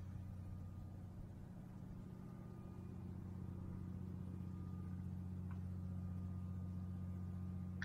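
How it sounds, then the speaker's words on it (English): A Caterpillar 3306 diesel generator set engine idles steadily with no load, a constant low rumble that holds even and close throughout with no voices. "we'll leave the engine get some heat in it before we start putting load on it"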